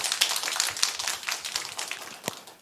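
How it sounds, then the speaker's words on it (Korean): A church congregation at a Sunday morning worship service claps together, a brisk patter of many hands rising and tapering over a few seconds with no voices. "다시 한번 하나님께 박수를 영광 돌립니다."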